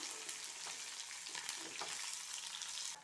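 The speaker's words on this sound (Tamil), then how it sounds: "வெங்காயம் நல்லா வதங்கி வரட்டும்" Large onions with green chilies and curry leaves sauté in a pan for a coriander-mint chutney, a soft continuous sizzle with light stirring scrapes, close but quiet, no voices.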